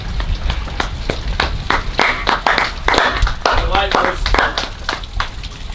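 Sharp claps ring out one after another in a steady, fairly loud run, with people talking over them.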